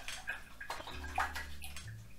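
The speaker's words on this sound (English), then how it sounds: "and then rinse off your brush" An acrylic paintbrush is swished and rinsed in a container of water, making a soft, close sloshing and gurgling for about two seconds.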